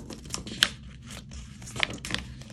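Paper for an origami blowtop spinner is folded and creased by hand, giving soft close crinkles and a few sharper crisp snaps.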